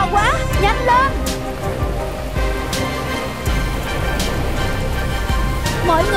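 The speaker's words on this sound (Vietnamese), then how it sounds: "mưa to quá, nhanh lên." Heavy rain pours down in an animated Vietnamese folk-tale cartoon as a village floods, a steady hissing downpour running throughout beneath excited voices.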